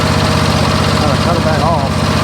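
Small engine of a Toro TimeCutter riding mower running steadily at close range, a continuous droning hum with faint speech-like warbles over it.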